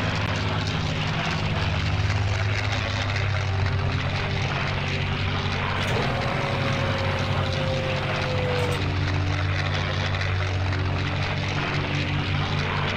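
Propeller aircraft engine from the Battle of Britain flight game Combat Wings, droning loud and steady as the plane comes in to land on an airstrip, with a brief rising whine midway.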